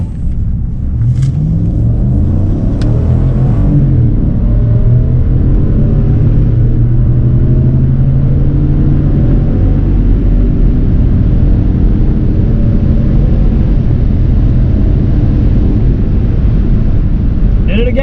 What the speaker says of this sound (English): now I'm gonna run the Escalade again and try and get it to leave like an actual car